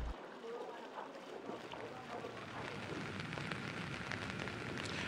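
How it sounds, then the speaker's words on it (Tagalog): Light drizzling rain falls during a flood in Malolos, a dense steady patter of drops on wet surfaces and water that continues evenly from start to finish, close and moderately loud, with no speech present. "ganito lang naman ang patak ng ulan dito, paambon-ambon"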